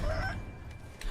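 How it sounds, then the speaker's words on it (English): A rooster crows in a short, close, loud burst of harsh calling, with no other sound around it. "Evil roosters, no!"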